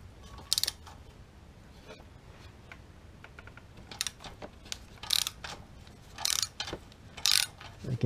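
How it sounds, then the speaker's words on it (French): A ratchet fitted with a universal joint works loose the exhaust bolts on a 2022 Honda CBR650R motorcycle, giving intermittent bursts of close, sharp clicking and metallic rattling, with quieter handling noises in between. "On va essayer avec un cardan."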